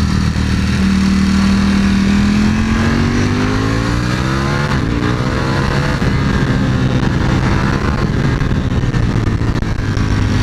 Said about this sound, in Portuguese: Olha tanto que rabia essa moto, velho